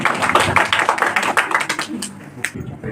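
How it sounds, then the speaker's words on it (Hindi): A crowd claps at a gathering to welcome a speaker, a burst of dense hand claps that thins into a few scattered slaps toward the end. "तो जोरदार ताली से स्वागत कीजिए महाराज जी का"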